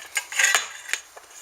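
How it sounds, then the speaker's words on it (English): Corn fritters being served onto a plate and more put into the pan, heard as a quick series of close metal clinks and scrapes of utensils against cookware, about a second and a half long, with no voices. "I'm going to plate those up and get some more on the pan"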